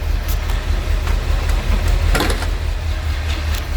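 A 1982 Chevrolet Corvette engine idles smoothly under an open hood, a steady low rumble holding even throughout at close range.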